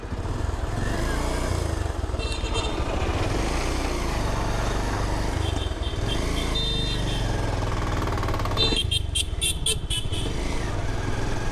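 A Bajaj Pulsar motorcycle, a 150 fitted with a 220 body kit, runs loud and steady throughout as it is ridden, with engine drone and road noise and a burst of higher tones near the end.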